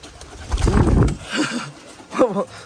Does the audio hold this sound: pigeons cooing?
yes